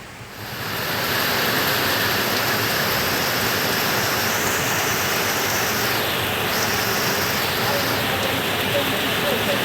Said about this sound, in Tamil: அப்பா மறுபடியும் மழை வந்துட்டு